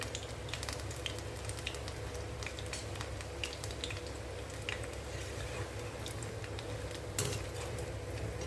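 Rava idli bondas frying in hot oil, a dense continuous bubbling sizzle with scattered crackles and occasional light clinks of a utensil, steady and close throughout.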